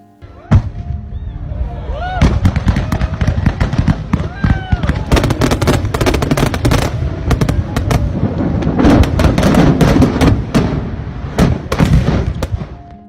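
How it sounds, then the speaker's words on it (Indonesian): The Trinity atomic bomb blast from the film Oppenheimer, made with real explosions instead of CGI. It is a loud, sustained roar of crackling, popping detonations and deep booming rumbles that run on without a break. "saat bom Trinity meledakkan cahaya, lalu disusul dentuman keras"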